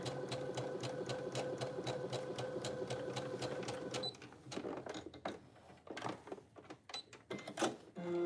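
A sewing machine stitches a dart on a garment piece in a steady, fast mechanical run for about four seconds, then stops. Softer clicks and handling noises follow while the fabric is shifted, and the sounds are close with no talking.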